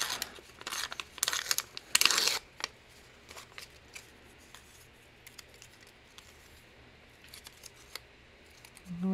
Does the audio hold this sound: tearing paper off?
yes